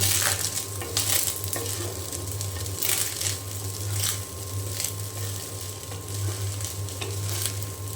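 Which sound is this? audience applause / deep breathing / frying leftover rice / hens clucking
frying leftover rice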